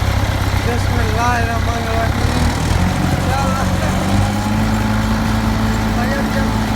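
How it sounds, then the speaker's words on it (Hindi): A tractor engine rumbles steadily up close in a constant low drone while someone speaks over it. "हम अपने इस गाड़ी में जा रहे हैं, हमारे ट्रैक्टर गाड़ी में"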